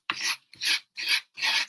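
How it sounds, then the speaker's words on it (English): Wood is sanded by hand with 220-grit sandpaper on a sanding block in four close, even back-and-forth strokes, each a bright raspy scrape separated by short pauses. "It's just a piece of 220 that goes on that sanding block"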